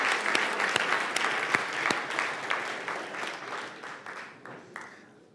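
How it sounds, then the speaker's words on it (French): Audience applause at a school science challenge event at Collège Montmorency, with distinct individual claps standing out from the crowd's clapping, which gradually thins and fades toward the end. "On les applaudit."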